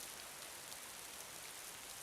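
Rain pours down in the flood survival game Raw Danger, a soft, even hiss of drops falling on surfaces that holds steady throughout, faint and with no voices over it.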